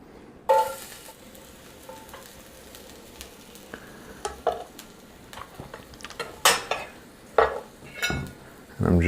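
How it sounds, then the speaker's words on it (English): Garlic sizzles gently in hot olive oil in a pan over lowered heat, a soft steady fry punctuated by scraping stirs and clinks of a utensil against the pan. "we slowly brown the olive oil, or the garlic in the olive oil"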